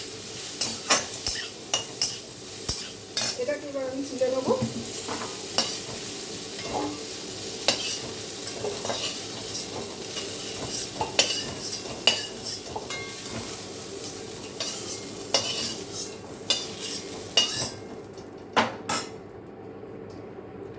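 Cauliflower florets fry in hot oil in a pan and are stirred with a metal utensil, a continuous sizzle punctuated by repeated sharp scrapes and clinks against the pan, with a brief spoken remark partway through.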